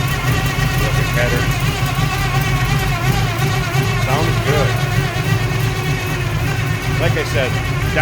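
A 1971 Chevrolet Nova with headers, Edelbrock intake and carburetor, and MSD HEI ignition idles steadily, a loud, even rumbling drone close by, with a voice talking over it.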